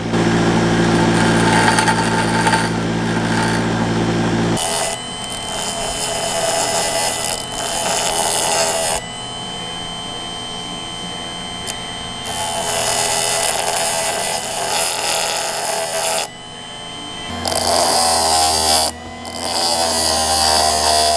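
An air hammer works on the wheel studs of a 1999 Cummins truck, loud rapid pneumatic hammering in repeated bursts of several seconds, with abrupt stops and changes, over a steady workshop machine hum.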